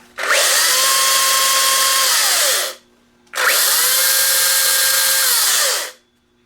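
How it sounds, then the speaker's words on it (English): Makita 36V (18V x2) LXT brushless cordless chainsaw, 16-inch, running in two long bursts of steady high whirring, each spinning up and winding down with a short pause between, loud and close. "I want to see what it sounds like."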